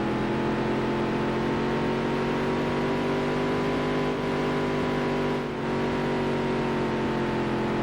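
A race car engine drones at high revs on the last lap in Dirt to Daytona, a steady, loud, sustained whine with only a brief dip near the end and no talk.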